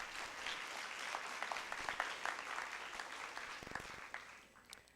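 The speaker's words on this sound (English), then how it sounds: "A round of applause, please." Steady clapping from an audience at a school competition, fairly faint and distant, continuing for a few seconds before tapering off.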